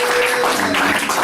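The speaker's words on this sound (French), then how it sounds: "Acclamation pour le Seigneur." A church congregation applauds in a brief, dense burst of clapping and crowd noise that stays loud and even over a second or so.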